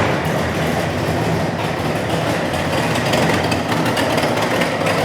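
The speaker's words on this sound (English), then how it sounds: "It's got a nice exhaust click right there." Exhaust of a restomod 1966 Pontiac GTO idling nearby, a continuous rough low drone with faint ticking texture, steady and fairly loud, no voices.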